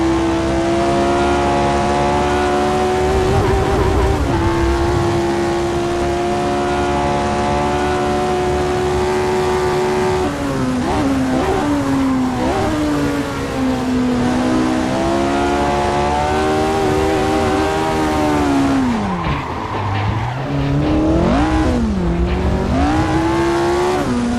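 A race car engine screams loud and unbroken, its pitch climbing and then dropping sharply with rapid gear changes, with sweeping dips and a hint of tire squeal toward the end.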